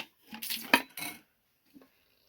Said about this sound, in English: we're going to take the top of our drink and our strainer, and do kind of a bit of a half-assed double strain